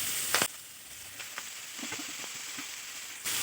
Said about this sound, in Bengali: সব রকম সবজিগুলো আমি দিয়ে দিচ্ছি